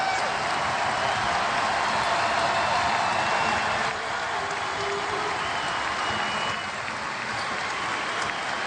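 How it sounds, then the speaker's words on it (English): Basketball arena crowd at a college game between Creighton and Villanova, a continuous roar of cheering and noise that stays loud throughout and dips slightly partway, with no clear talk. "Now the crowd back in it."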